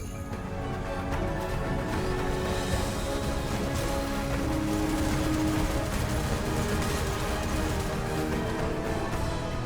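Sustained gunfire from mechs shooting at a tank in the Phantom Brigade strategy game, a dense continuous barrage of overlapping shots and impacts filling the whole stretch at steady loud level.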